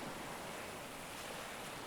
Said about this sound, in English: I would much rather be listening to the ocean waves